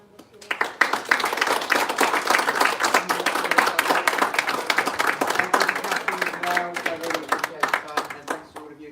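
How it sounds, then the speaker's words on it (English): An audience at a Coventry and Warwickshire future-planning event applauds a panel, sharp individual claps building into a full, lively round that carries on for several seconds before tapering off, with a few voices mixed in. "please join me in giving this rockstar panel one final round of applause"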